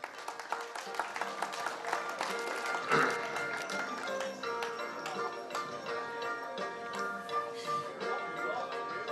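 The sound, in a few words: audience applause at a ceremony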